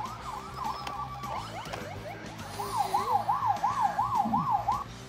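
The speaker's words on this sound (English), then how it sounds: "Here comes the ambulance." An ambulance siren arriving at a road accident scene with police and fire crews present, a wailing then rapid yelping tone rising in loudness over traffic rumble.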